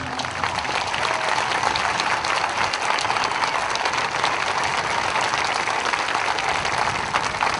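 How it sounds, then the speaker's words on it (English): A graduation audience on Memorial Day weekend applauds veterans, a dense, steady roar of many clapping hands that fills the space from start to finish without pause. "Let's give them a round of applause, please."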